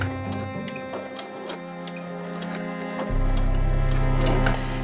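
A sewing machine stitches a short straight seam back and forth on a fabric bag handle, making a close, rhythmic ticking hum that shifts to a deeper, louder run partway through, with scattered clicks and no speech.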